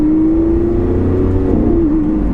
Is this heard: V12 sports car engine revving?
yes